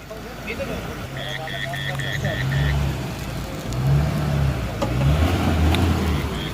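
At night on a mountain road during the Nagdwari fair trip, a vehicle reverses with its engine rumbling, and a rapid series of electronic reversing beeps sounds near the start. People talk throughout over the steady motor noise.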